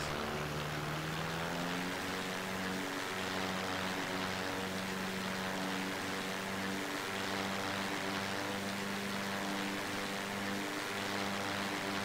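Propeller airplane engine in the flight game Takeoff, a loud, steady drone with rising and shifting harmonic tones as power builds during the takeoff roll, continuous and close with no talk.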